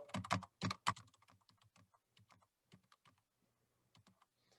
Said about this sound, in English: I can just type a title.